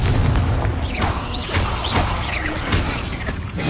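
Confringo blasting curses go off in a Hogwarts Legacy duel as a series of dull, repeated booms and bursts under steady battle noise, with swooping spell whooshes between the hits.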